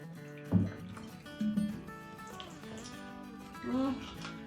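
Clean water pours and drips into the small reservoir of a rockhound's cabbing machine in brief gurgling bursts, heard faintly beneath a steady tonal hum.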